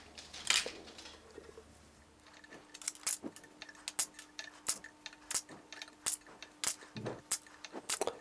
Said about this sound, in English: I'm just cutting off the right length wires. This is brass.